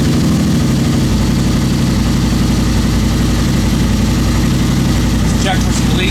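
A Turbo RZR engine fitted with an Evolution Dynamite turbo kit and running on E85 starts and settles into a loud, steady idle, parked on a cold day.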